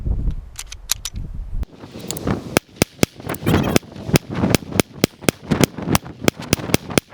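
Zigana PX-9 pistol firing a magazine outdoors, a rapid string of about twenty sharp shots in fairly steady rhythm, loud and close, with echoes and brief gaps between groups.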